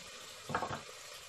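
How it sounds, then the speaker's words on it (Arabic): Mixed vegetables frying together in a pan for a Turkish-style red lentil soup, a brief burst of close sizzling and stirring that rises for a moment and then settles back into a quiet kitchen background. "نخليها تقلى شويه الخضر مع بعضها"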